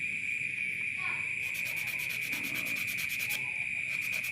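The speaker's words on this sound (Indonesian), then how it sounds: "untuk memperhalusnya tinggal kita perhalus lagi menggunakan amplas" Sandpaper rubbed over a handmade frog fishing lure, giving a steady close scratching texture that stays continuous throughout, with a constant high tone and faint insect-like chirping in the background.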